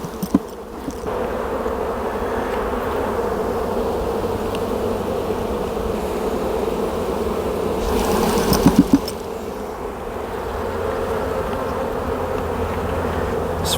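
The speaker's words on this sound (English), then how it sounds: "with all these bees, it's really hard to find a queen" Dense, steady buzzing of a large mass of honeybees swarming around an open hive during queen grafting work, a continuous close drone that swells briefly near the middle and never lets up.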